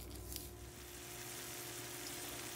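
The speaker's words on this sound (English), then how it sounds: "I got some bacon sizzling here" Quiet, steady sizzling of bacon frying in a pan, a soft continuous crackle with a low hum underneath and no talking.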